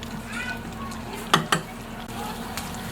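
Carrots and potatoes go into a pan with a soft sizzle, punctuated by a couple of sharp utensil knocks against the pan, with faint talk and household noise in the background.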